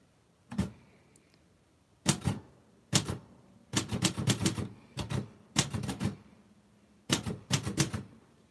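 Keys on a manual typewriter strike in short bursts of crisp, clacking hits separated by brief pauses, close and clear with no talking.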